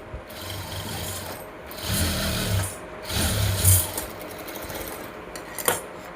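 A sewing machine stitches a blouse in several short bursts with brief pauses between runs, the motor whirring close and clear.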